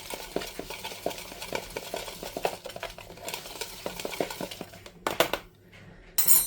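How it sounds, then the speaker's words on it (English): Spoon stirring apple pie overnight oats with raisins in a bowl, a steady run of close scraping and light clinks, ending in a few louder knocks against the dish. "So I'm just going to give this a bit of a stir to combine them."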